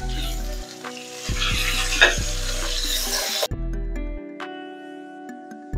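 Chuck roast browns in a hot pot with a steady loud sizzle, broken by scraping stirs and a few clanks as the meat is moved and flipped.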